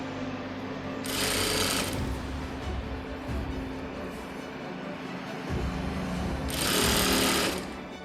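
A sewing machine stitches a small child's petticoat in two loud bursts of fast, whirring stitching separated by a quieter pause, with low room hum underneath.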